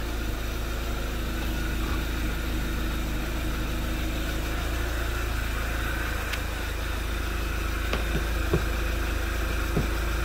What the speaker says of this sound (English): Idling away.